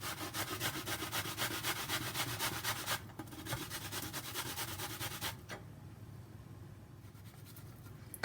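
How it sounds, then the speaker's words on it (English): Green plantain is grated on the small side of a hand grater in a kitchen, with rapid repetitive scraping strokes that pause briefly and then resume more softly, close and without talk. "I'm using the small side that is going to grate this very nicely, and I'm going to grate this plantain"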